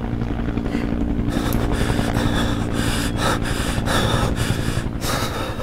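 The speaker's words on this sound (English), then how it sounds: "I got just some heavy breathing. Holy, that was loud." Loud, heavy breathing in the video game Road 96: repeated rough gasping breaths with a steady rhythm, close and harsh over a continuous rumbling background, no talk.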